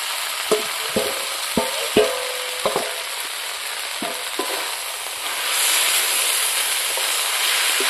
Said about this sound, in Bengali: দেখুন কলার মশলাটা কত সুন্দর ভাজা হয়েছে। এখন আমি এই ভাজা আলুকে দিয়ে দেব।